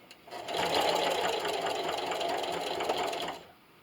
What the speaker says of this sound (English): And I'm going to sew up to my first needle.